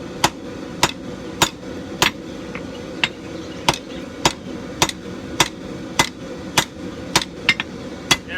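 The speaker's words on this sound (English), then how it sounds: "I'm just going to start forging and see kind of what the steel wants to do" Hammer blows forge steel for a kukri knife, sharp ringing strikes landing in a steady, evenly spaced rhythm, about a dozen in all, with a few quicker hits near the end.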